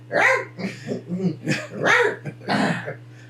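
A person imitates a dog in a film, giving a run of five or six loud, rough barks and growls in uneven bursts over a steady low hum.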